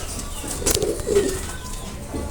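Teddy breed pigeons, including KTM Teddy birds, coo close by in a soft, low, repeated burble, with a few brief brighter calls over light background noise.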